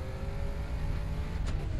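A voice mimics a car engine in the video game Far Cry 3: a steady, low rumbling drone lasting under two seconds, with a short hissing burst near the end.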